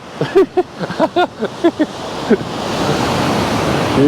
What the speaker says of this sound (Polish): Ale idzie teraz fala.